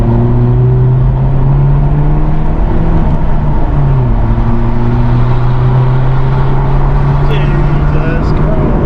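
A BMW 118i engine and exhaust rev steadily while driving, recorded from inside the car with the window down: a loud, continuous drone whose pitch rises and falls. Wind rush fills the background and voices talk over the engine.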